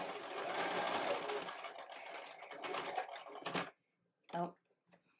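A sewing machine runs a long basting stitch on a very full Belle costume skirt, a close, steady mechanical chatter of about three and a half seconds, then a brief extra burst.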